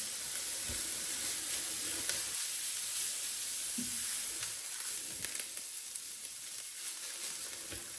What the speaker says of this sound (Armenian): Եվ մի փոքր սոխարացի հետ տապակում եմ գազարը